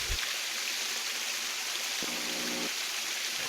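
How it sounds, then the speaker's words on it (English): Steady rushing water from a waterfall and stream in an underground cavern, used as tabletop fantasy game ambience: a constant, even hiss with a brief low hum partway through and no talking. "A waterfall stands out from the larger cavern somewhere ahead of you."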